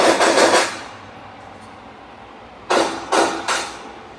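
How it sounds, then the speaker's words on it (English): Loud gunshots hitting steel targets at an outdoor gun range, one early, then a tight string of three drawn shots moving left to right to center, each a sharp crack with a ringing tail. "this is shooting from left steel to right steel to center from the draw"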